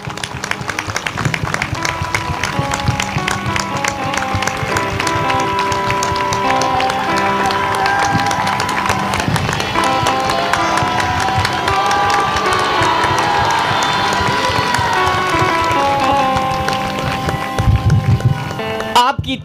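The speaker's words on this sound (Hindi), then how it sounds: "बड़ी सुंदर ताली बजाई है।" A church congregation applauds loudly in a sustained roar of clapping mixed with cheering and shouting. The sound is dense, close and continuous for nearly twenty seconds, with tonal music-like sounds running underneath.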